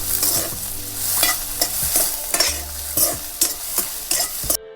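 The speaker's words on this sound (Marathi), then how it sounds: "आता कांदा टाकून घेते कांदा चांगला परतून घ्यायचा" Onion tossed into a pan with garlic sizzles under repeated spoon scrapes and clinks against the metal, a steady frying hiss between strokes; close and fairly loud, without speech.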